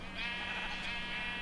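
A sheep in a crafting video game gives one sustained, fairly close bleat of about a second and a half, heard alone.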